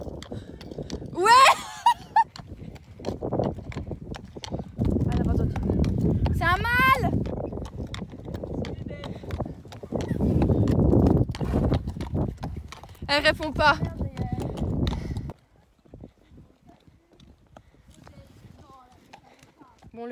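Mares walk home along a road, their hooves clip-clopping in a steady, close rhythm for about fifteen seconds before fading. People speak French over the hoofbeats, and faint calls come through near the end.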